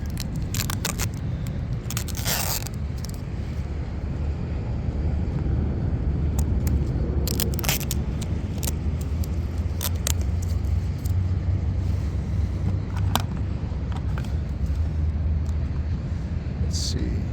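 A homemade shrimp rigger RC boat runs flat out across the water, its motor holding a steady continuous buzzing drone throughout with a few sharp transient clicks and splashes layered on top.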